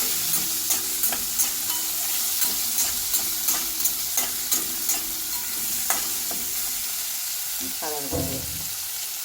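Sliced onions sauté in hot oil for fish molly, a loud constant sizzle punctuated by regular spoon strokes against the pan, with a brief clatter near the end.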